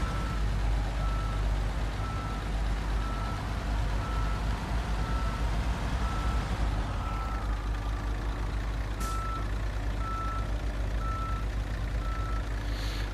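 Truck reversing alarm in the video game Construction Simulator, a steady series of evenly spaced beeps repeating over a continuous engine rumble throughout.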